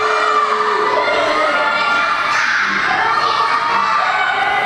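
A wrestling event crowd cheers loudly and continuously, a dense wall of shouting and high-pitched yells from many fans, steady and close throughout.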